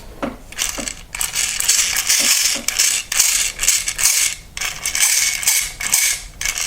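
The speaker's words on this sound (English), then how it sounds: "when it really starts to spin up there that everything kind of jitters in there from the loose shimming" Small gears whir and rattle loosely in bursts, starting and stopping repeatedly with a gritty, jittery mechanical clatter up close.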